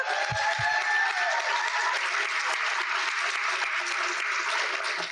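Applause from a luncheon symposium audience welcoming two speakers to the stage, a broad steady patter of many hands clapping at moderate distance, sustained evenly with a couple of brief thumps at the start.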